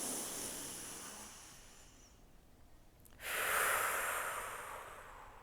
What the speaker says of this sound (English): One more breath in mountain pose.